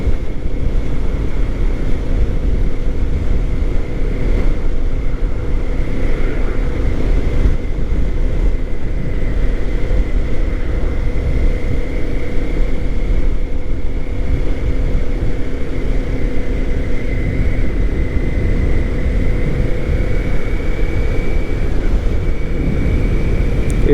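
Kawasaki Ninja 400 motorcycle engine droning steadily while riding, buried under heavy, constant wind rush across the helmet microphone with a faint tonal hum throughout.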